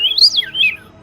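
A man whistles an imitation of a western meadowlark's song, one short, loud, clear sliding phrase that rises and then falls, heard alone without other sounds.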